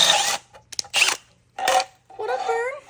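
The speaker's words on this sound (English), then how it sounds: "are you drilling holes?" A drill boring holes in a scooter, several short loud whirring bursts with pauses between them, close by, followed by a stretch of talking.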